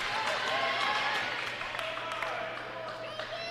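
Grants Pass fans clapping hard at a boys basketball game against Roseburg: dense, steady crowd applause filling a gym, with a commentator speaking over it.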